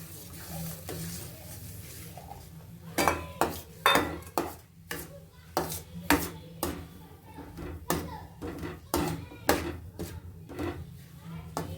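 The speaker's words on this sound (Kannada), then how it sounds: "ಈಗ ರವೆ ಹಾಕ್ತಾ ಇದನ್ನು ನಾನು ಮಿಕ್ಸ್ ಮಾಡ್ಕೊಳ್ತೀನಿ" Semolina is stirred into a boiling mixture in a pan for rava laddu, making a run of sharp spoon clinks and scrapes against the metal, roughly a dozen irregular strokes after a quiet start.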